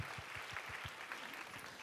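Church congregation claps together to give glory to God during a service, a short burst of rhythmic, fairly faint applause.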